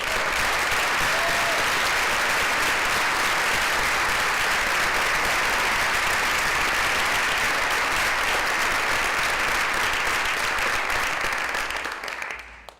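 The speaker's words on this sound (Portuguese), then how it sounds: "Uma salva de palmas para a Jamila Ribeiro" A lecture audience gives long, dense, steady applause after a speaker is introduced at a talk on racism and silence, loud and continuous for about twelve seconds before fading out at the end.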